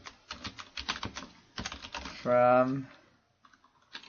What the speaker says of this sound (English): We'll open up that budget mistakes and we'll type in some data here.